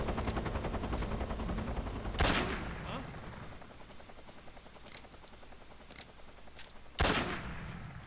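Gunfire in the Metal Gear Solid 3 video game: a steady rattle of rapid shots runs throughout, punctuated by a few louder, sharper blasts near the start and end.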